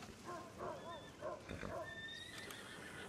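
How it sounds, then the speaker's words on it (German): Horse neighing in Red Dead Redemption 2, with several whinnying calls over the first half and a higher squeal later, fairly close and over a steady game ambience with light talk in the background. "hier vorne steht ein Pferd."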